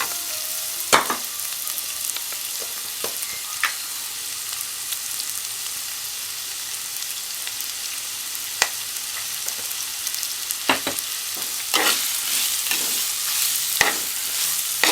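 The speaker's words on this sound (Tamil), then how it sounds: "இந்த பெரிய வெங்காயம் நல்லா ப்ரௌன் கலர் ஆகணும். அது வரைக்கும் நம்ம இதை நல்லா வதக்கலாம்." Sliced onions with a pinch of salt sautéing in a pan for a Kerala-style egg roast: a constant soft sizzle under scattered scraping stirs and spoon clinks, some in quick clusters near the end, close up and without speech.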